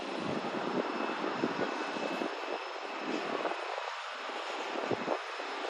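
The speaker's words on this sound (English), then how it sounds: "Got a 737 rolling out." A Boeing 737 airliner rolls out after landing at Houston IAH on a sunny, breezy afternoon, its engines giving a steady mid-distance roar with a faint whine, continuous and unbroken.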